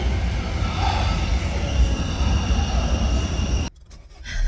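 A Brussels metro train rolls along with a steady rumble and rail noise, loud and close from inside the car, ending in a quieter, muffled stretch toward the end.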